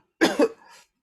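A single harsh cough, a sharp double burst followed by a softer trailing rasp, close and alone, from a patient with a slight fever.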